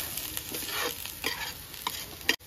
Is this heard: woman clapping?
no